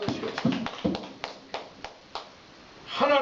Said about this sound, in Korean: 우리 아버지 하나님 박수를 한번 영광 돌리십시오.